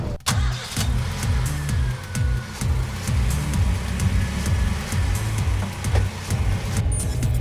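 Car engine cranks and catches for a road test drive, then settles into a steady rhythmic running note, close and fairly loud with no talk.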